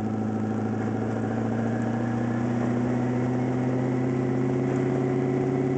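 A twin-turbo LS1 V8 swapped into a Mazda RX-7 FD idles steadily up close, a smooth even rumble with no revving and no talking.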